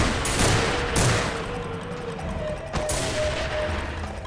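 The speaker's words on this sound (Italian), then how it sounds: "Ancora spari." Gunfire rattles through a firefight in Soldier of Fortune 2: Double Helix, with several sharp shots and short bursts cracking out at irregular intervals, loud and close, with no one talking.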